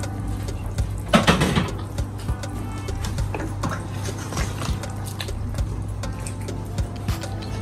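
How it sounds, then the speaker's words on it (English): Hot water pouring and splashing into a metal pot of chicken soup, with clinks of cookware and a low steady hum underneath. "I'm adding some water,"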